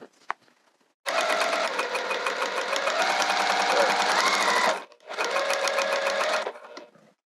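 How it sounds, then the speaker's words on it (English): A sewing machine stitches down the top edge of a cork wrist pouch, running in two close, steady bursts of rapid mechanical whirring and clatter separated by a short pause, with quiet moments at the start and end. "And we're going to sew down that top edge."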